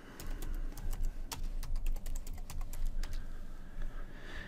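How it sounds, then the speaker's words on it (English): Computer keyboard typing during work in a Windows Server 2012 R2 admin command prompt: a quick, irregular run of clicky keystrokes at close range over a low steady hum, with no talking. "command prompt and type disk part"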